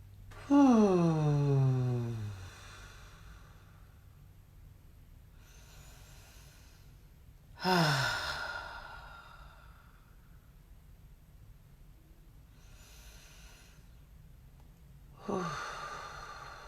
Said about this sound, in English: So let's breathe together.